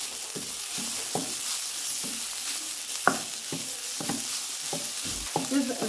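Chicken fried with a teaspoon of tandoori masala in a hot pan, sizzling steadily while a spatula scrapes and taps in repeated strokes close up, with no talking.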